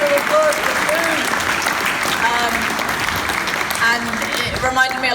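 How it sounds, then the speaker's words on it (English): A live audience claps and cheers at a highlights event, steady broadband applause running the full length with some voices and whoops rising through it. "So can I have a huge round of applause for the food?"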